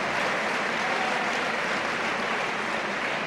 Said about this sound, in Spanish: Y ganándose los aplausos del respetable